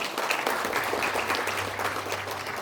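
Audience applauding in a large conference hall at the National Assembly members' building, a steady, moderately loud patter of many hands with a low hum underneath.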